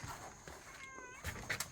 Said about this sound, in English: Oh, the cat is lonely.